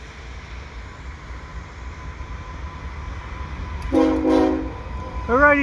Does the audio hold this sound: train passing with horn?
yes